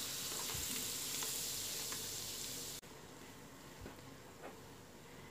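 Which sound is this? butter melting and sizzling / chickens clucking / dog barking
butter melting and sizzling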